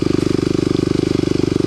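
A Kawasaki KLX250sf single-cylinder trail motorcycle engine chugs steadily at low revs under light throttle, its even, rapid pulsing thump loud and close throughout.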